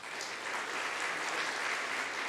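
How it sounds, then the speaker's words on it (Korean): Church congregation applause at a Christmas Sunday service: a short, even wash of many hands clapping, soft and somewhat distant, with no voices over it. "일어나면 박수하고요"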